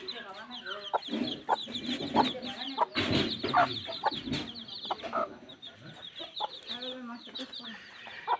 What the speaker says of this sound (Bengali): এগুলা সব আমার শখের মুরগির বাচ্চা।